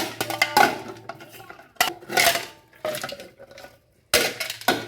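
A child plays pretend cooking with pots and water, producing loud, irregular metallic clanks and clatters of pans and utensils in bursts separated by brief quiet gaps.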